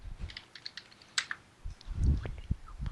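Brief bursts of typing on a computer keyboard, scattered light key clicks with a louder thump near the end, close and fairly quiet in a calm room.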